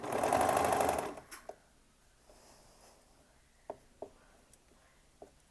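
A sewing machine stitches knit fabric in one loud continuous burst for about a second, then stops, leaving only faint handling clicks and taps.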